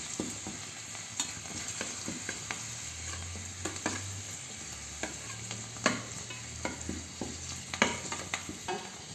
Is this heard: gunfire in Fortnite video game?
no